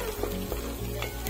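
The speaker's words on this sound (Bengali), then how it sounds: "গোটা জিরে দিয়ে দিলাম, দিয়ে নেড়ে চেড়ে নিব" Whole cumin seeds frying and being stirred in oil with browned onion and garlic, a close, continuous sizzle with soft scraping strokes of the spoon, no voices.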